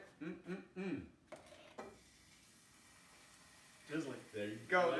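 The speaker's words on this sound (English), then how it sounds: "The chicken is gonna get cooked in this hot oil." Chicken for fajitas frying in hot oil, a soft steady sizzle with clinks of a utensil against the pan, under intermittent talking at the start and end.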